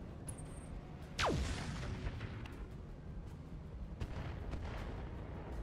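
Mech weapons firing in modded Battletech, a sudden boom with a sharp descending whoosh followed by a rumbling tail and a softer second thud later, fairly faint overall with no speech.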